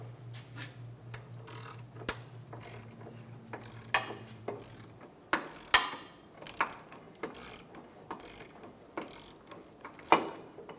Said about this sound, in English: Loosen the rear subframe bolt.